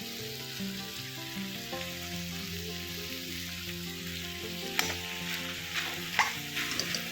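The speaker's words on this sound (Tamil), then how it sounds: "இப்போ இது சூடு பட்டதுமே இந்த கொத்தமல்லி புதினாலாம் அப்படியே நல்லா வதங்கிடுங்க." Mint and coriander leaves sauté over a low flame in a pan, a continuous close sizzle and crackle with occasional scraping stirs and light clinks, no voices over it.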